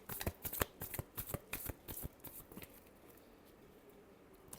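Tarot cards are shuffled in a quick series of crisp riffling snaps and flutters, close and fairly quiet, fading into soft handling noise.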